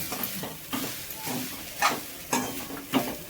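Stirring and scraping in a pan while roasting a filling for steamed ukadiche modak until golden, with soft repeated spatula strokes and a faint sizzle at a quiet, close level.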